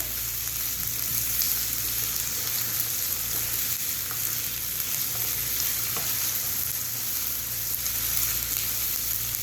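Onions fry in hot oil for okra masala with a constant, dense sizzle that stays close and even throughout, with faint stirring underneath and no voices.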